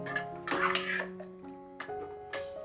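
A spoon clinks and scrapes against a metal pot as masala and salt are stirred into food, a few faint, close knocks and rattles in short bursts.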